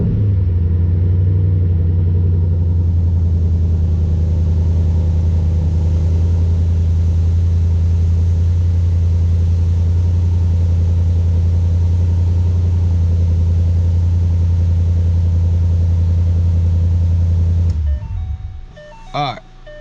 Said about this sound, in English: So we're just go ahead and crank it up